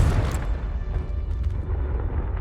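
The Confringo blasting spell in Hogwarts Legacy detonates with a loud, heavy boom at the start, then a deep rumbling roar fading through the rest.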